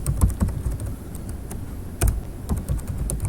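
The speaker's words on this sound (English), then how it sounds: "Can't see what I'm typing until I turn around." Close, clicky keystrokes on a computer keyboard, tapped in uneven bursts with short pauses between them, alone with no voices.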